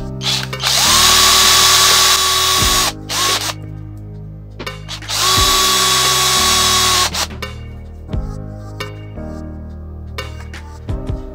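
A power drill with a 3.5 mm bit whines at full speed in two long bursts, with rattling and clunks of handling between and after them, close and loud.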